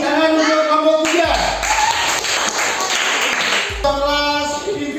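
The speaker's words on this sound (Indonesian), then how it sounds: "Tepuk tangan untuk kelompok 3." Schoolchildren in a classroom applaud a presenting group, a burst of clapping lasting about two and a half seconds between stretches of voices and steady background hum.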